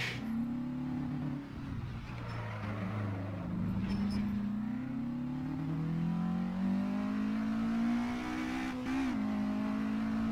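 A Porsche 718 RS 60 race car in Assetto Corsa on the Red Bull Ring circuit revs hard with its engine pitch climbing, then dips on a downshift near the end, loud and continuous with no talk.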